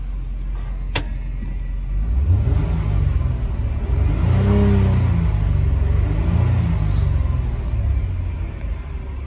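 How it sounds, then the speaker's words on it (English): A 2014 Dodge Promaster 1500 van's 3.6-liter engine idles, then revs up hard into a loud, sustained roar and settles back down, with no talking over it. "We'll rev it up for you in 1 second."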